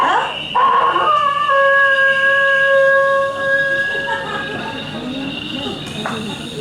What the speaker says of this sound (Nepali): कुन चाहिँ लोदर कुकुर हो यसरी?